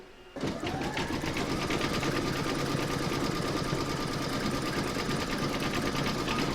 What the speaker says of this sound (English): I'm using dark brown again so that it matches the wrinkles on the forehead, and stitch round number 10.